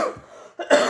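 A single harsh cough from a speaker with a cold, a short close burst followed by a second rougher cough that trails off, heard alone without any talk.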